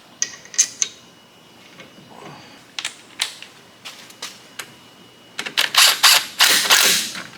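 Ratcheting and tool clicks come from tightening the small bolts on a Jeep WJ brake caliper, heard as scattered sharp metallic clicks and taps, then a denser burst of ratchet clatter near the end, close and with no talk.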